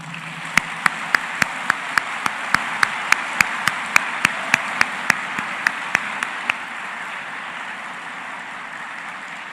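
A crowd at a medical school graduation ceremony applauds in a steady, rumbling wash, punctuated by sharp, evenly spaced loud claps or beats that ring out about twice a second before stopping, leaving the applause to carry on alone.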